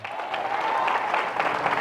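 A church congregation claps in a dense, steady burst of applause filling the room, with a faint murmur of voices underneath.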